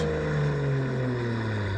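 A Nissan Skyline GTR R34 engine drones loudly through a short rev-matched downshift, its pitch sliding smoothly downward over about two seconds.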